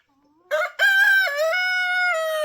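A rooster on a homestead crows once, loud and close, a long drawn-out call that holds steady to the end, with no other sound around it.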